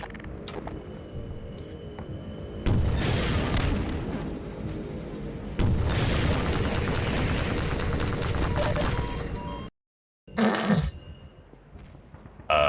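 Rockets explode in Half-Life 2, with dense rumbling blasts and sustained booming bursts that are loud and close, broken by a brief silence before another burst.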